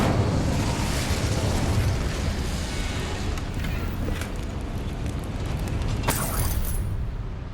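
An Incendio fire spell cast in the Hogwarts Legacy video game: a loud, continuous roaring whoosh of flame over a dense rumble, with a sharp bright burst near the end.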